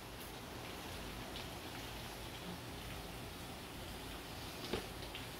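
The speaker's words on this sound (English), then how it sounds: "You can hear the rain behind me." Steady rain falling outside by a porch on a chilly, cool day, a soft continuous broadband hiss with no talking and one faint brief knock near the end.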